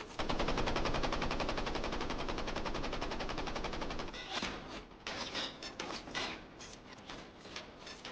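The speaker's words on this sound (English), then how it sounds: "after a few rounds, the Japanese ship fires back" A World War II Imperial Japanese Navy freighter refitted for war returns fire, starting with dense rapid automatic gunfire that breaks into uneven bursts and scattered shots.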